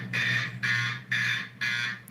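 A buzzy horn on a 4050 blares four times in an even rhythm, each blast about half a second long with short gaps between, sounding more like a buzzer than a mechanical horn.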